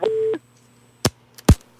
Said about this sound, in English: She got a beep.